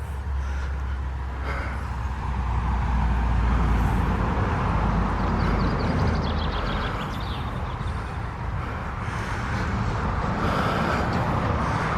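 Steady road traffic drones continuously near Washford station on the West Somerset Railway, a broad low rumble of passing vehicles throughout, with faint birdsong chirps rising intermittently above it.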